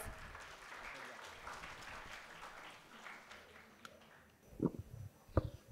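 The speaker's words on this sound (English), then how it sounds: "Please give him a big round of applause." Audience applause welcomes a speaker onto the stage at a talk on AI and the future of work. It runs as a steady, moderate patter, then gives way to a few louder thumps and knocks near the end.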